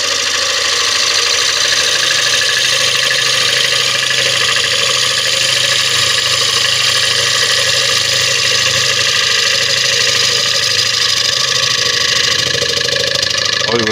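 A wood lathe push-cuts a Spanish chestnut bowl, giving a loud, steady droning hum with a continuous rough hiss from the tool that holds without a break.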